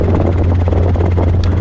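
A Robinson R22 helicopter in flight gives a loud, steady, close-up buzzing drone with a constant low rotor hum, heard from inside the cabin on a training flight.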